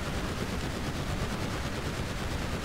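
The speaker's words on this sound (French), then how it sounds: "ça se tire dessus" Dense, continuous gunfire from a superhero-style fight in GTA 5 involving War Machine and Hulkbuster, a loud, steady wall of rapid shots and blasts with no pauses.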